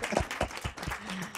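A handful of scattered, uneven claps from a small audience greet the professors at the end of a lecture presentation, with a faint voice murmuring near the end.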